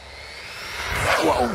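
A Typhon Grom BLX RC car with a 4S EXB upgrade accelerating on a speed run: a brief rising electric motor whine that builds over a second and a half, swelling louder as it climbs in pitch, without talk.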